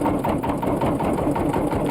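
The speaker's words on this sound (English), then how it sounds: "There's so much grunt from that 8 horsepower single cylinder engine" An 8 horsepower single-cylinder engine running in an open-air vintage car on the move, a steady rapid chugging drone, close and fairly loud, with no talk.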